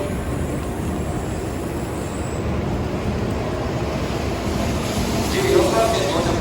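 A Shinkansen arrives at Kyoto station, with steady low rumble and platform hum under faint voices; a brief higher whine rises near the end.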